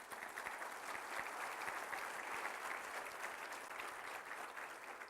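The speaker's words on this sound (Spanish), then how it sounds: "Denle un aplauso al Señor Jesucristo." Church congregation applauding during a worship service, a steady, even roar of many hands clapping at a distance, quiet overall and continuing without a break.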